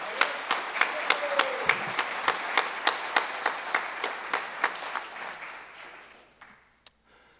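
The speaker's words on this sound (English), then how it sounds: "How about a round of applause for the guy who put it all together, Coach Mike Carey." A crowd claps together in a steady, rhythmic beat that gradually fades, ending with one last lone clap.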